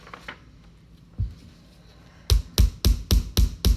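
Sharp metallic hammer blows ring out, one early strike followed by six evenly spaced hits close by.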